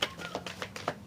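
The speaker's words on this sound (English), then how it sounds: "Last shuffle." A deck of cards is shuffled during a live tarot-style reading, giving a quick run of soft papery riffles and taps in several short bursts close to the microphone, with no talk over it.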